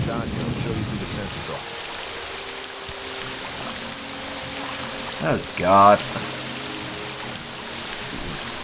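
Rainstorm in the game Morrowind: steady broadband hiss of rain throughout, with a low rumble and a brief louder burst near the middle, while a voice speaks briefly over it.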